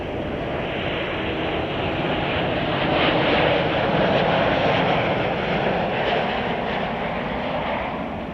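A United Boeing 737 MAX 9 arriving from Phoenix at Chicago O'Hare, heard as a broad, steady jet roar at moderate level that swells slightly mid-way and eases off, with no talk.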